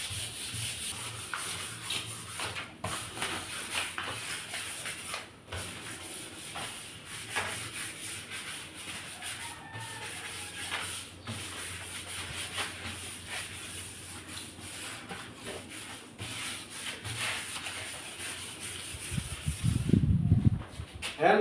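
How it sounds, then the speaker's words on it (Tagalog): Hand sanding of varnished wood with fine finishing sandpaper, a continuous close-up rasping rub with brief pauses between strokes, ending with a louder rustle. "tapos na natin ang pagliliha"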